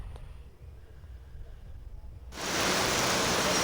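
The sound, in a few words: heavy rain falling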